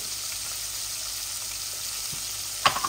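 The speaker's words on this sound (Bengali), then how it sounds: "আর মাছটা আমি বেশি ভাজবো না, এপিট ওপিট করে ভেজে ফেলবো" Rohu fish sizzles and fries in oil in a pan, a steady close crackling hiss with a brief clatter near the end as the pieces are stirred or turned.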